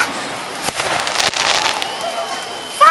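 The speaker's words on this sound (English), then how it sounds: "Fireworks!" Fireworks bursting at a Disney park on the Fourth of July, a continuous wash of crackling and popping explosions with scattered sharper bangs, loud and steady throughout.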